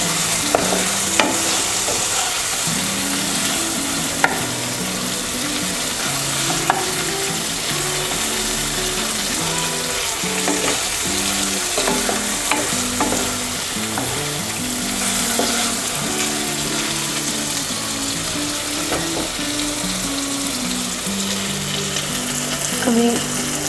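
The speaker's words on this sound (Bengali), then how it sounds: "মাছগুলোকে ভালো করে মশলার সাথে মেশাতে হবে।" Pieces of basa fish fry in a pan with spices, a continuous loud sizzle close up, punctuated by repeated scraping and clicking of a spatula stirring and turning the fish.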